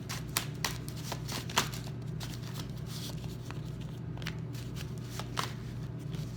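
Tarot cards are shuffled close by in a continuous soft papery riffle with small irregular slaps, quiet over a low steady hum.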